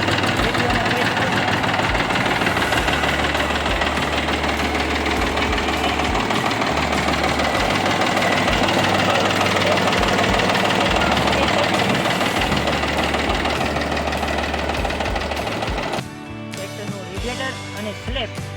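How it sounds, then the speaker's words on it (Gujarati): A second-hand Mahindra Bhumiputra 275 DI tractor idles close by with a steady, low diesel knock and throb, before the engine note drops away near the end as other noises take over. "મિત્રો આ પણ તમને ટ્રેક્ટર ચાલુ કરીને એને બતાવીશું।"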